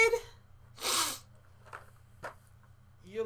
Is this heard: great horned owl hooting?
no